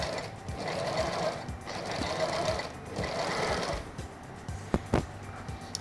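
Sewing machine running steadily while stitching long gathering stitches through fabric for a leg-of-mutton sleeve, a fast rhythmic mechanical whir in bursts, close and fairly loud, with brief pauses and a few clicks near the end.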